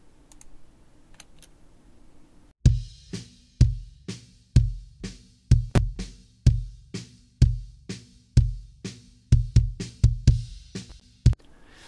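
A kick drum picked up by an external microphone, a string of about fifteen booming, closely spaced hits with sharp attacks in a quick uneven rhythm, loud and isolated after a short quiet lead-in.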